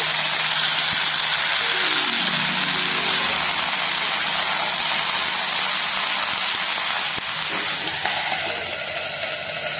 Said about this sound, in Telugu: ఇప్పుడు మనం క్లీన్ చేసి పెట్టుకున్నటువంటి నల్లేరు కాడ వీటిని బాగా ఫ్రై చేసుకోవాలి